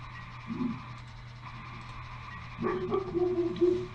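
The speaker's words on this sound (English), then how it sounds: "He's an angry doggo." A dog gives a short bark, then a longer run of growly, whining barks close by, over a low steady hum.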